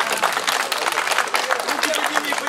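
Crowd applause and clapping at a no-rules fight event, brief and fairly close, mixed with someone shouting over it.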